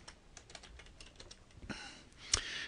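Short bursts of computer keyboard typing, quiet and close, with separate key taps followed by a louder final keystroke, like entering a file name.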